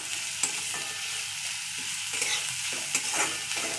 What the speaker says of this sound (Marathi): मग लसूण घेतला आहे पाच सहा पाकळ्या कढीपत्ता हिरवी मिरची आणि एक कांदा घेतलाय बारीक चिरून चांगला परतून घ्यायचा आहे कांदा